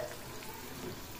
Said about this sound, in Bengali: কড়াই বসিয়ে দিয়েছি, এবার ফটাফট ভেজে নিই